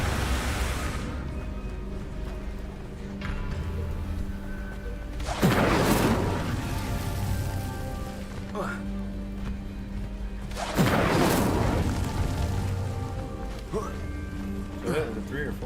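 The Incendio fire spell cast in Hogwarts Legacy on PC goes off in two heavy, booming whooshes several seconds apart, loud over continuous game ambience.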